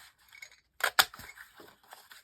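Scissors snip through paper to cut out envelope closures at a desk, a few quick close crisp cuts with two sharper snaps in the middle and quieter rustles after, no voices.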